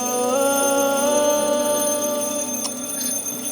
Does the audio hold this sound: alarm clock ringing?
yes